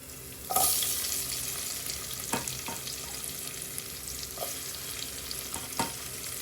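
Garlic and onions frying in oil in a home kitchen, a steady close sizzle with a few sharp clicks and scrapes of stirring spread through, no talking.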